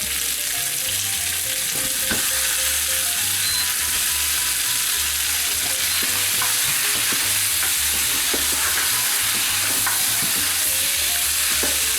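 Lamb sizzling in a pan with onion and fennel, a loud continuous fry with repeated scraping and clicking of a spoon stirring close up.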